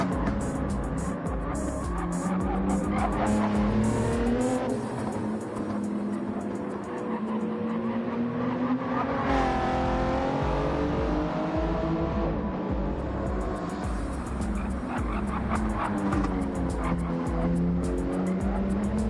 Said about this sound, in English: You can hear the tires screeching there.